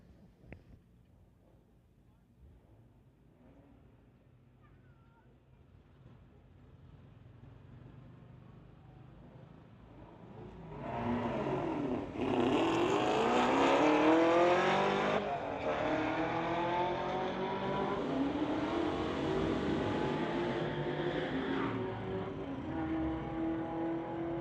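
A 2011 BMW and a 2018 Ford drag racing at a street-legal strip event: a low engine idle builds, then a loud launch of roaring engines that rise and shift through gears before fading as the cars pull away.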